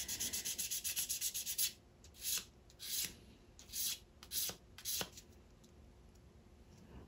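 Sandpaper rubbing against the sharp edge of a resin quartz crystal pendant, a steady run of quick close strokes, then several separate short scrubbing bursts with brief pauses between them.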